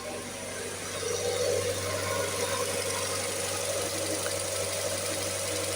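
The engine of a scrapyard Mazda MX-5 idles with a newly fitted alternator belt spinning, giving a steady low hum with a faint whirring layer on top, close and unchanging.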